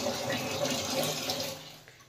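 A bathroom tap runs with heated geyser water, giving a steady, broad splashing rush at moderate level that holds for about two seconds and eases slightly at the end.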